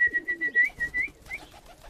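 Pigeons in a loft, including newly paired birds, give soft low cooing calls in a steady rhythm at close range, with a thin high whistle-like tone above them and no talking.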